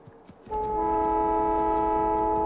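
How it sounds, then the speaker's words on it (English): A train arrives in the Factorio video game, starting with a few faint clicks and then a sustained, loud tonal horn-like hum over a low rumble that holds steady. "Here comes the first train."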